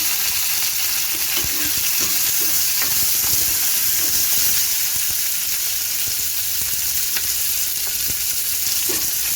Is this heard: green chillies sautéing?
yes